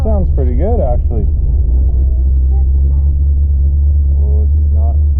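Engine of a 1980 Buick Regal idling steadily with a deep, continuous low rumble, close and loud, with a person talking over it for most of the time.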